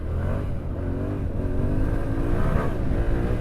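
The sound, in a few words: Yamaha Tenere motorcycle engine revving off-road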